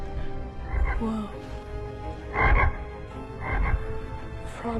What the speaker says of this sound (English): Frog of Ultimate Doom.